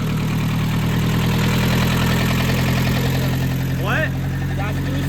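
A Scion tC engine misfiring on three cylinders idles with a rough, uneven throb close by, steady and loud throughout, with a brief voice near the end.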